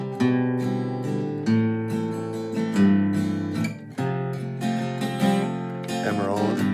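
Acoustic guitar chords strummed in a steady three-beat 3/4 waltz rhythm, ringing and full, with bass notes leading each bar.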